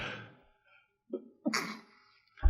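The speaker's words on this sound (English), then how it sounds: "I don't think I've ever sneezed on a podcast before." A single sneeze bursts out after a couple of soft breaths, loud and close, followed by a brief quiet.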